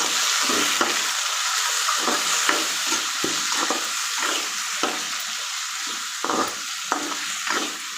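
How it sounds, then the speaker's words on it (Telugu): Vegetables for a wheat rava upma with potato sizzle in hot oil in a pan while a spoon stirs and scrapes them in repeated, rhythmic strokes, close and steady throughout. "మనం తీసుకున్న కూరగాయలన్నీ ఒకసారి వేసేద్దాం. వేసి బాగా కలుపుకోవాలి."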